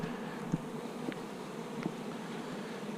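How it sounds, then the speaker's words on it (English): Honey bees hum steadily around a hive entrance, a soft continuous buzz with a few brief nearer passes standing out as individual bees fly close. "Other bees coming. Look at them coming around where the queen hole was"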